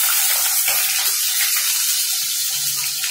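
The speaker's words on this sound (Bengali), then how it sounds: "এবার আমি আলুটা ভাজবো" Potato pieces frying in hot oil in a wok, a steady, close, fairly loud sizzling hiss that runs unbroken throughout with no voices.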